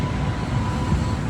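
A commuter train on the line out from Kenmore, a steady close rumble of wheels and motor rolling past without pause.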